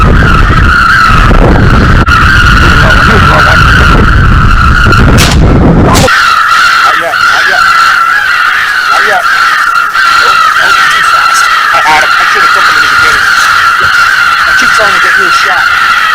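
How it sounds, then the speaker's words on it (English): Heavy wind buffets the microphone outdoors during a crow hunt with motion decoys, a loud, rough rumble for about six seconds that then drops to a steadier, thinner hiss with a high whine. "The wind blows."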